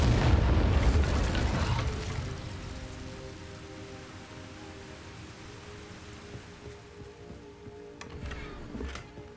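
A burst of the Incendio fire spell cast in Hogwarts Legacy, a loud whooshing, crackling flare in the first two seconds that fades into a low, steady rumble with a faint pop near the end.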